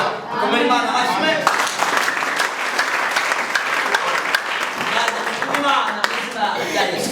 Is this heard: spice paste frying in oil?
no